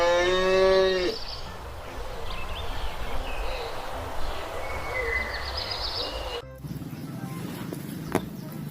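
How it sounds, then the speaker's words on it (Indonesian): A dairy cow moos once, loud and drawn-out, at the start, followed by a steady noisy background and a brief click near the end, with no voices. "seekor sapi perah."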